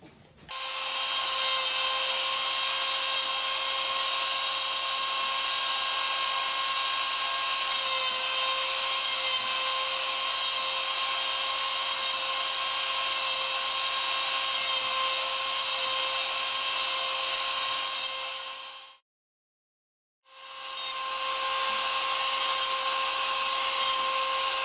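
A wood lathe with about a 14-inch swing turns a wooden banjo rim, giving a loud, steady motor whine with a bright tonal hum that stops abruptly for a second, then starts up again.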